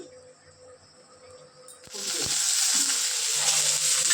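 Ginger, garlic and green chilies dropped into a little hot oil in a wok: quiet at first, then a sudden loud, sustained sizzle that continues steadily to the end.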